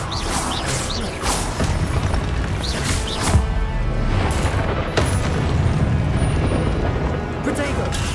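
Confringo blasting spells go off in the Hogwarts Legacy video game, several booming bursts and crashing impacts with rising whooshes layered over continuous game noise and talking.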